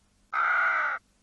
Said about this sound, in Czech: Vidíš? Krkavec.